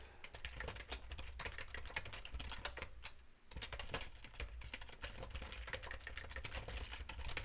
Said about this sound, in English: Typing outside of stream is kind of rude.